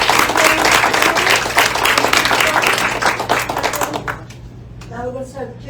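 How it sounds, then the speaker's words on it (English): Warm audience applause for guests at an actors' Q&A event, brisk clapping that tapers off and gives way to a voice speaking. "So please, big round of applause to Catherine and FRIDEY from France."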